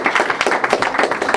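An audience at a Sunday night recovery group meeting in Chicago's west suburbs breaks into lively applause, a dense patter of many hands clapping close by.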